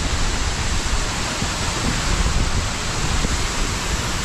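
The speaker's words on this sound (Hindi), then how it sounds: "ये वाटरफॉल है" A mountain waterfall roars in a constant, loud, close wash of broadband noise, mixed with strong wind buffeting the microphone, with no voices.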